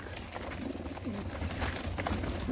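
Racing pigeons from the border region coo softly in a short stretch, a few low burbling calls close by over a steady background hum, with no talking.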